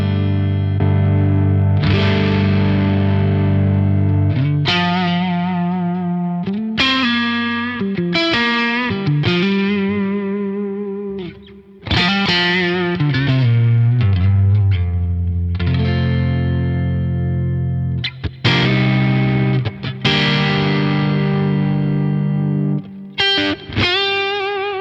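An electric guitar runs through an Origin Effects Halcyon Green Overdrive pedal with the dry level full and the drive just under a quarter, playing lightly overdriven sustained chords and riffs, loud and close with no voices.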